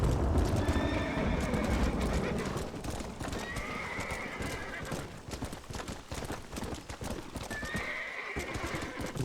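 A horse galloping in the video game Red Dead Redemption, with rapid clip-clop hoofbeats, snorts and whinnies throughout, loud and close over game ambience, with a voice speaking briefly.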